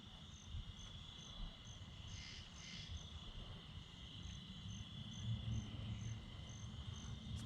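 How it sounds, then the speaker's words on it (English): Crickets chirp in a steady, pulsing chorus over a low background rumble of distant car traffic, with faint frog calls mixed in outdoors at night. "I don't know if you can hear the crickets and frogs going on"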